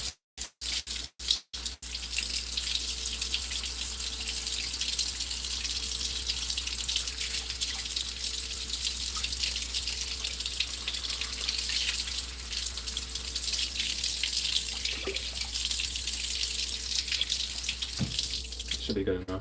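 Hot water runs steadily from a kitchen tap, with something being rinsed under the stream. A few sharp knocks come at the start, then a continuous close splashing flow with no talk.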